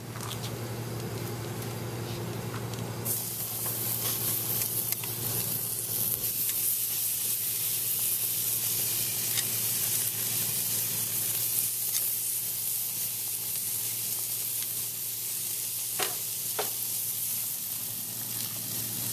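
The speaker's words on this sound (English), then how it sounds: "This is going directly on the grill now" Bacon-wrapped BBQ chicken sizzles on a three-burner gas grill, a loud, steady crackling hiss that jumps up as the meat goes on and then holds with occasional pops.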